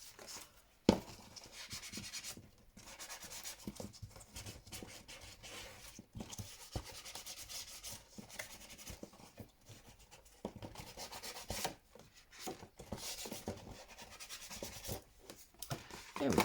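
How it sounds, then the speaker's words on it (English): Brush rubbed round and round over a 12x12 sheet journal cover, giving a soft, continuous scratchy rubbing close by at low volume, broken by short pauses. "So I'm just rubbing my brush round again."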